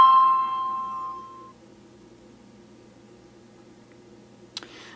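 Mobile phone ringing on a call: a brief electronic ring tone opens the stretch and fades within about a second, followed by near silence broken only by a faint click near the end.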